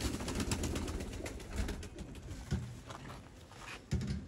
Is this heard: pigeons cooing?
yes